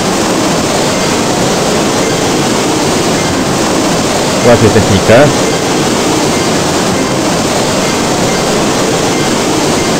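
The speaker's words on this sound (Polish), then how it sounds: "Ale głośny ten wodospad." Loud waterfall in a custom level of the video game Claw: a constant, heavy roar of rushing water that fills the whole stretch, with someone briefly speaking over it midway.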